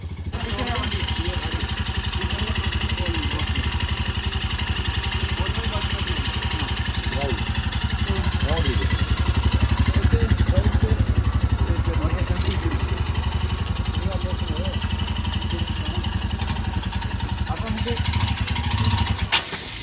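A Royal Enfield Himalayan motorcycle engine runs steadily after an electric self-start, a continuous low throb lasting throughout, close by, with people talking over it, somewhere on the road from Kashmir to Sonamarg.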